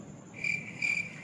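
A cricket chirps twice in short, shrill trills spaced a moment apart over a quiet background.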